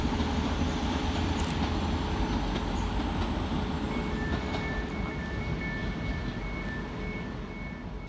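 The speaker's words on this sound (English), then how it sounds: "Whilst departing in the background is 185125, running 7 minutes late with the 12:11 Transpennine Express service from Cleethorpes" A TransPennine Express Class 185 diesel unit pulls out of Manchester Oxford Road station, its engine a steady loud rumble throughout, with faint high-pitched tones appearing partway through.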